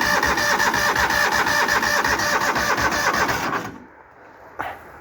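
An old gas engine on full choke sputters into life and runs loudly and steadily for a few seconds, then cuts out abruptly, leaving near silence broken by one brief knock.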